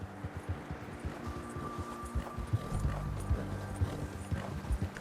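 Horse hooves in Red Dead Redemption 2 clip-clop in a steady rhythmic trot, close and moderately loud over a soft ambient background, with no speech.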